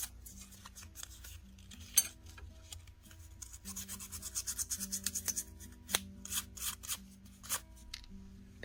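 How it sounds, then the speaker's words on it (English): Sandpaper worked over wire-wrapped spirals on a wire owl craft piece, giving quick raspy scrubbing strokes in bursts with light metallic ticks, close and moderately quiet over a low steady hum. "I especially like using sandpaper on spirals"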